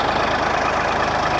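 A tractor engine idles loud and close, a steady, evenly pulsing low rumble with no other sound on top.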